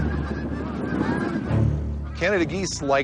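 Canada geese honk loudly near the end, at an airport, several rising calls in quick succession over a steady low rumble of background noise.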